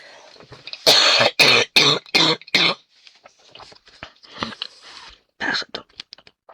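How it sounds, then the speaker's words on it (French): A person in a quiet room gives a close run of about five harsh coughs and throat-clearing bursts, followed by softer, scattered breathy sounds. "Je vais tousser."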